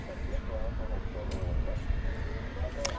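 Aircraft engine noise from a plane arriving at DFW Airport at night, Flight 2635 in from Ontario, California, a steady low rumble and whine that holds throughout, with a voice talking over it.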